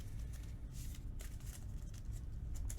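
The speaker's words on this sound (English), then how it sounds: "Alright, shuffling up." Marvel Champions game cards being shuffled by hand, a steady papery riffling and flicking for a few seconds, fairly quiet and close, with a sharp knock at the end.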